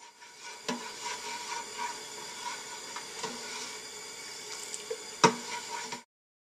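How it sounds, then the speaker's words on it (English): Liquid malt extract being stirred into homebrew holiday ale, a soft continuous scraping and swishing of a spoon in the pot with a few faint knocks against the side, close and quiet. "Continue stirring. Make sure it's all dissolved."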